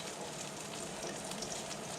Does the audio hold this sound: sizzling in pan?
yes